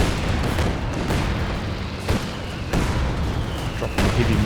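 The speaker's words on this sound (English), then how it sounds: "Dropped a heavy mortar strike" A heavy mortar strike in Company of Heroes 2 lands as a series of dull booms and thuds over steady battlefield rumble, with several sharper impacts spaced a second or two apart.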